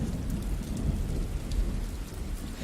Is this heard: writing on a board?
no